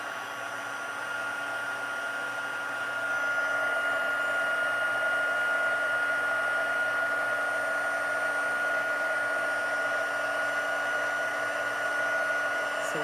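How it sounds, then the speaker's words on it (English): Heat tool blowing hot air to melt embossing powder on a handmade card, a steady close whooshing hum that grows slightly louder and holds throughout. "Okay, let's heat emboss this."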